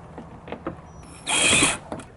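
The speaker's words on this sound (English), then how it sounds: "All you have to do is just drill them in once this unit is fully extended." A power drill drives screws into the extension panel of a Bonaire Durango evaporative cooler fitted in a window, giving one short, close whirring burst among faint clicks and handling noises.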